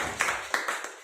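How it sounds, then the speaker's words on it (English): A small audience clapping for a speaker at a speakers' forum, a handful of separate claps spread across about a second, fairly faint and close. "Everyone, give a big round of applause to Utesh"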